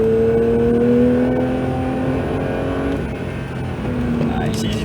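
A Porsche 911 GT3 (992) lapping the Circuit du Castellet gives off a loud, steady engine drone heard from inside the car, dipping briefly as if on a light lift, with the driver's voice over it.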